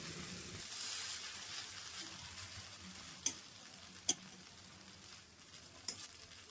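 Quiet, steady sizzling from a pan while cooking egg Maggi noodles, with a few sharp clicks from a utensil scattered through it.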